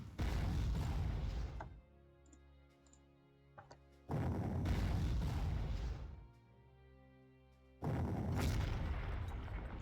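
Three heavy artillery booms from Panzer Corps, each a loud broadband blast lasting about two seconds, spaced a few seconds apart with quiet tonal game sound and faint ticks between them.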